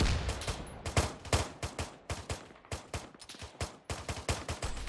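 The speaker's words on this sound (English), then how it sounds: "Tracer fire coming in from east." Gunfire in the military shooter game Arma 3, with rapid bursts and single shots cracking in an irregular fusillade, loud and close, a steady stream of reports with no talk.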